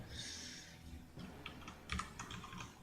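Computer keyboard typing, quiet and close, a scattered run of light key clicks and taps in an uneven rhythm over faint background hiss.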